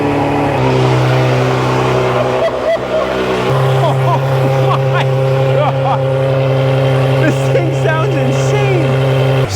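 The V12 of a neglected Ferrari 599 fires up and settles into a loud, close idle, a deep steady rumble with a step change in pitch partway through while voices talk over it.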